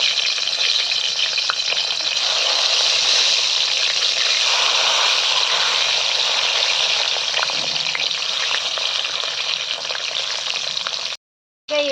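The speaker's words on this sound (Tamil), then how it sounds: "கத்திரிக்காயில் பொரிச்சு எடுத்துக்கலாம்." Eggplant pieces frying in hot oil for ennai kathirikai kulambu, a loud, continuous close sizzle with crackling spatters and occasional stirring, running steadily before cutting out briefly near the end.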